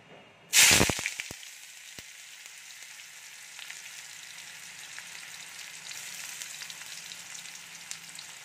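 Chopped onions hit hot white oil in a kadai with a sudden loud hissing burst, then settle into a continuous, quieter frying sizzle nearby.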